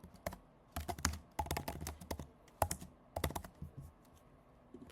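Someone types a folder name on a computer keyboard, tapping out quick clustered bursts of crisp, close keystrokes separated by short pauses, with no talking.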